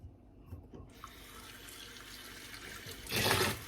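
Water runs from a tap, starting quietly and swelling into a louder, steady splashing stream near the end.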